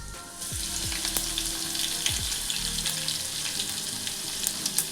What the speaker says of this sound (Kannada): ಎಣ್ಣೆ ಬಿಸಿ ಆದಮೇಲೆ ಸಾಸಿವೆ ಹಾಕೋಬೇಕು ಮತ್ತು ಜೀರಿಗೆ ಹಾಕೋಬೇಕು ಮತ್ತು ಇದು ಬೆಳ್ಳುಳ್ಳಿ ಪೇಸ್ಟ್ ಹಾಕೋಬೇಕು